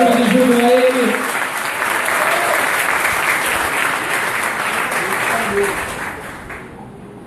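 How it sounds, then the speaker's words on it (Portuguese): A church congregation claps steadily with scattered shouts of joy, a voice briefly audible at the start, the applause holding strong before thinning out near the end. "Você pode aplaudir ao Senhor, dar um grito de júbilo a Ele."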